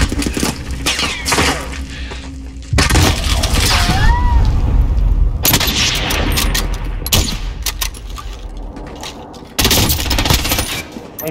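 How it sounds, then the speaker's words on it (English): Bursts of gunfire in a Warzone match, loud overlapping cracks and rapid automatic volleys coming in waves, with a few sharper single reports between them and no speech. "I'm taking fire!"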